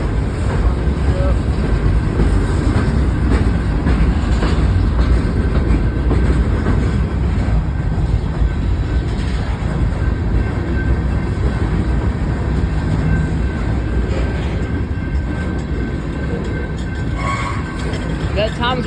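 A freight train led by a GE Evolution (Gevo) locomotive rolls past late at night in Fosterville, Tennessee, a steady loud rumble with wheel clatter that fills the whole stretch, with faint talk at times.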